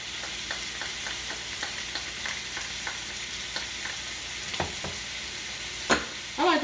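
Onions frying with ground beef in a pan for hamburger potato casserole, a steady low sizzle with regular soft stirring scrapes and a couple of louder clanks near the end.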